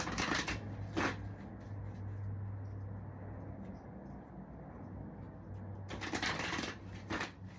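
Tarot cards being shuffled by hand, with brisk riffling bursts near the start and again toward the end over a low steady background hum, and a quiet stretch in between.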